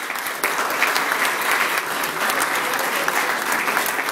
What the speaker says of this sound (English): A round of applause for Anthony Davidson